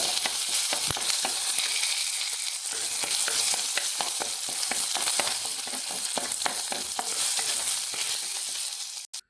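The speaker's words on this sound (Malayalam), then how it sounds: "കറിവേപ്പില രണ്ട് രണ്ട് കറിവേപ്പില ഇത് നല്ലോണം ഒന്ന് വറുത്ത്" Curry leaves fry in hot oil in a pan, a dense continuous crackling sizzle with frequent crisp pops, close and loud, without talk, cutting off abruptly at the end.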